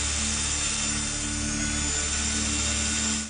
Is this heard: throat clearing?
no